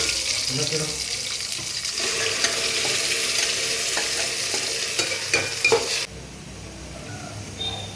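Ground masala hits a hot pan for bottle gourd majjige huli, frying with a close, busy sizzle while a spoon scrapes and stirs, then the sound cuts off abruptly to quiet background.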